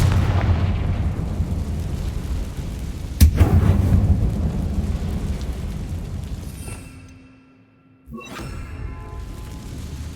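A spell blast erupts in a mine in Hogwarts Legacy, a loud rumbling boom with a sharp crack near the start. It rolls on and fades to near silence, then another rumble rises near the end.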